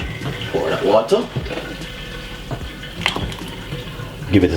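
Water is poured into a cooking pot while making creamy mashed potatoes, a few splashing bursts between quieter moments in a kitchen.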